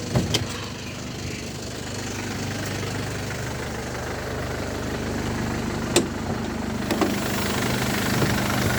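A 2010 Mercedes C200 CDI W204, a 2.1-litre 136 hp diesel with automatic gearbox, idles with a steady low rumble and faint clatter, a few sharp ticks breaking through near the start and around the sixth second.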